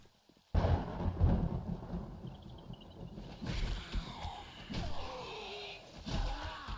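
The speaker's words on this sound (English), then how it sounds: "It's raining" Low rumbling thunder rolls in after a brief silence, with a patter of rain and a few heavier booms throughout, from the video game 7 Days to Die.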